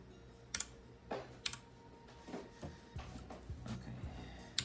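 Typing on a computer keyboard fitted with new HyperX keycaps, giving a run of crisp, irregular clicks and clacks at close range, some strokes sharper and louder than others, with no voices.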